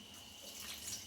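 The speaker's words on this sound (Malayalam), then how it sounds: "ലേശം വെള്ളം ഒഴിച്ച്" A small amount of water poured for making coconut milk while cooking Karkidaka medicinal rice porridge, a soft, faint and steady trickle heard alone with no talking.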